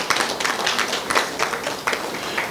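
Audience at a launch event applauds a guest: a steady patter of many hands clapping at moderate distance, continuous for a couple of seconds without talk.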